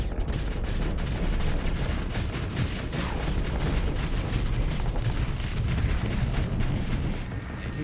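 Dense, continuous rumbling blasts and booms from missiles exploding in the space combat game Starsector, packed closely together with no gaps, loud and sustained throughout with no talking.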